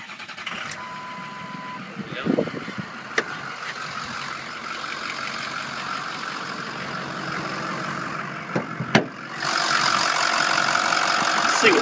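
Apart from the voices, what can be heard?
2005 Ford F450 truck engine starting and idling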